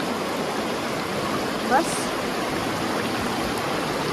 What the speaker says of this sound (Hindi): कोशिश करूंगी आपको नदी की आवाज आए, शायद आ भी रही होगी